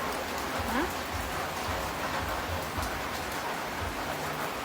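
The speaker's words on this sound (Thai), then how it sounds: "ฝนตกฝนตก" Steady rain falling and pattering on surfaces, a dense constant hiss close around, with faint low sounds underneath.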